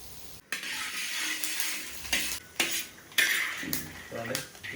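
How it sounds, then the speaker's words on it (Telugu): Peanuts hit hot oil in a pan and sizzle, while a metal spoon repeatedly scrapes and clinks against the pan in short stirring bursts, close by. "వేరుశనగ పప్పులు వీటిని ఫస్ట్ వేసుకుందాం."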